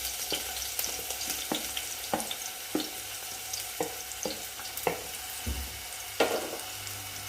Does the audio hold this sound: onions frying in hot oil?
yes